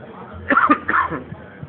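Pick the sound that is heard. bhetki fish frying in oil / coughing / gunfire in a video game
coughing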